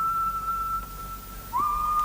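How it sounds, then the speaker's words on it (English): A man whistles a tune alone, a clear steady note that holds for a long stretch and then slides up into a new pitch, with faint room hum beneath. "Each time he starts to whistle one of his tunes."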